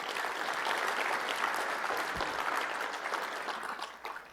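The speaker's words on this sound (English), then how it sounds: "One more round of applause for these folks." Steady audience applause at a tech conference keynote, a continuous wash of clapping that holds level and then thins out toward the end.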